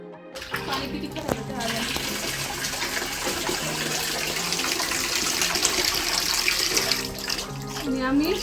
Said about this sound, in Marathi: पाणी आलं तर असं आलेलं